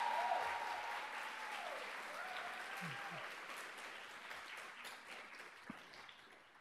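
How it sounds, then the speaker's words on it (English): Audience applause at a New York University graduation ceremony, a steady wash of clapping filling a large space, with faint speech-like tones over it at first, tapering slightly toward the end. "I give yourself a round of applause as I salute you."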